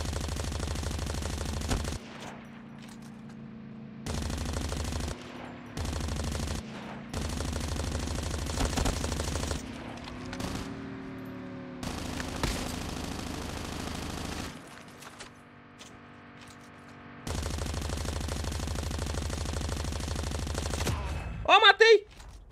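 Gunfire in Call of Duty Mobile comes as sustained automatic bursts broken by short pauses, with a steady game hum underneath and a player's voice talking at times.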